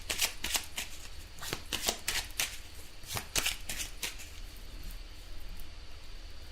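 Oracle cards being shuffled by hand in a quiet room, a run of crisp, riffling card flutters in uneven bursts, close and clear with no talking.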